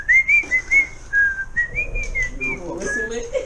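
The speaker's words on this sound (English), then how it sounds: "Whistle it." A person whistles a clear tune in short, repeated phrases, fairly close and loud, during a brake pad change on a 2010 Kawasaki Ninja ZX10R, with some background noise and low talk near the end.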